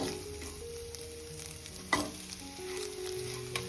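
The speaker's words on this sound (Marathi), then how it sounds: "गुळ पण मस्त परतून घ्यायचा पूर्णपणे आपल्याला मेल्ट करून घ्यायचं आहे" Grated coconut and jaggery are stirred in a hot pan until the jaggery melts, a steady close sizzle with spoon scrapes and a sharp clack near the middle, no voices.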